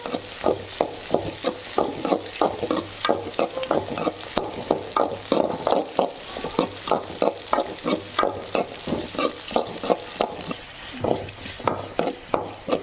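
Chopped onions sauté in hot oil for a fish curry, a soft continuous sizzle broken by regular scraping strokes of a spoon or spatula stirring the pan, close and steady with no talking.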